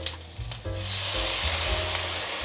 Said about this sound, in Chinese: 现在放入橙汁